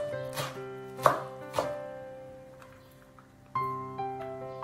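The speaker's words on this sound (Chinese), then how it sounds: "切点葱花" A knife chops green onions on a cutting board for a spicy home-style enoki mushroom dish: several sharp, close knocks in an uneven rhythm, with a steady tonal hum underneath and gaps between the cuts.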